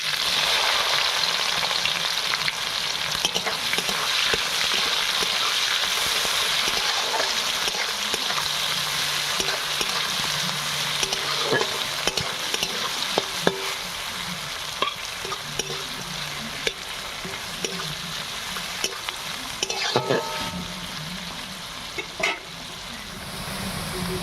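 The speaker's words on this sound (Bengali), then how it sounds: "এখানে পেঁয়াজটা বেশ ভাজা হয়ে গেছে" Chopped onions fry in a pan with a steady, close sizzle. Occasional clinks and scrapes of stirring cut through, and no one speaks.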